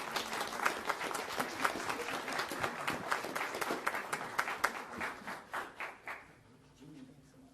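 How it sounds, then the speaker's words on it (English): Applause from an audience at a city council meeting: many hands clapping at moderate level, thinning into a few scattered individual claps before fading out near the end. "Another round of applause, please."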